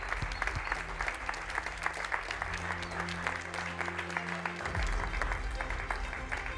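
A conference crowd claps for the winning renovation project, a continuous wash of many hands in a hall that holds steady for several seconds, with faint voices mingled in.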